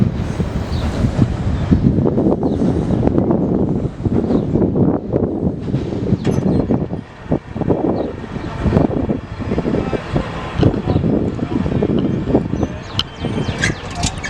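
A CP intermodal freight train at the Poplar Street railroad crossing in Fostoria, Ohio: a steady, loud rumbling roar of passing rail cars with clanks and wind buffeting the microphone throughout.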